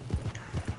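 Horse hooves clip-clop in a video game, a quick series of soft, muffled, evenly paced thuds heard close and moderately quiet, with no speech over them.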